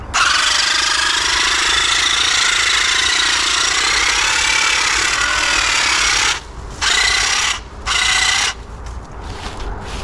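A Seesii pole hedge trimmer buzzes loudly and steadily while cutting overhanging blackberry brush outdoors, its motor running continuously before cutting out in a few brief pauses near the end.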